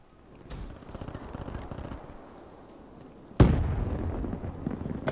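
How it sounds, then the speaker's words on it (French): Gunfire from a Pharo weapon in a Call of Duty style shooter, with continuous rattling gameplay shots and then a loud, sharp burst at the midpoint that stays dense and forceful to the end. "Il met une rafale de Pharo le gars."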